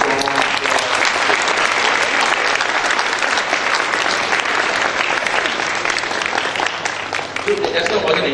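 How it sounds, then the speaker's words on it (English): A large audience at a youth conference breaks into strong, sustained applause that stays dense and loud throughout. "deserve another round of a very strong applause."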